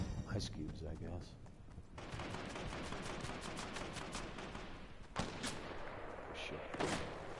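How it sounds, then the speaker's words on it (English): Bursts of video game gunfire crack repeatedly, some in quick rapid-fire runs, with a couple of sharper louder shots standing out over a dull background. "Well, I definitely hear gunfire now."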